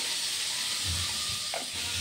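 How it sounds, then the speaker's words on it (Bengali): Pointed gourd (potol) frying in a pan, a steady close hiss and sizzle throughout with a few faint stirring clinks. "এই দেখুন এখানে পটল ভাজা।"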